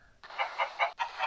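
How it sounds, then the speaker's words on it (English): Chickens in a Roblox video game cluck in a short run of rhythmic, close, clear bursts, about five in quick succession after a brief quiet start. "I think there's more chickens there."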